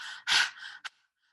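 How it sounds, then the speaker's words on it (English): Rapid breathing in and out through the mouth during a breathwork ceremony: a sharp forceful breath, a softer exhale and a short final puff, close and clear with no talking. "we will move our rapid breath to the mouth"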